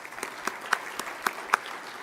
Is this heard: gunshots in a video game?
no